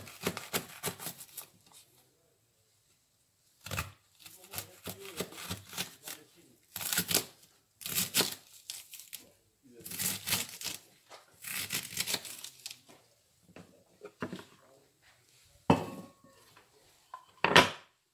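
A knife cuts through endive on a board in irregular bursts of crisp chopping and crunching, with short pauses between runs of strokes.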